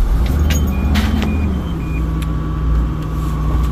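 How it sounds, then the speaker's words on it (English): A school bus engine runs at idle after starting, a loud, steady low diesel rumble with a faint tonal hum and a few short electronic beeps above it. "So I'm going to start this bus. Let it run for a bit."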